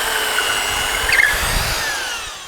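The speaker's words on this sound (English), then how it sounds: "you just need to drill 2 vertical holes at those centres" Power drill boring vertical holes into a wooden beam, about 12 mm holes for 10 mm bolts to hang a seat, a steady close whirring grind running throughout with slight pitch shifts as the bit bites.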